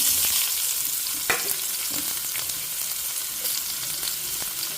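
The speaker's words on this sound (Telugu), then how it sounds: "ఇప్పుడు నేను ఆనియన్ ముక్కలు వేసేస్తున్నాను" Onion pieces frying in hot oil for a cabbage, ginger and green chilli curry give a steady, close sizzle with a few brief stirring scrapes and no talk.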